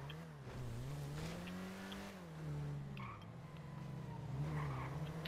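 A car drives in GTA on PS4/PS5 with a steady engine drone that rises and falls as it revs and shifts, plus occasional tire noise. The sound is continuous, moderately faint and heard alone.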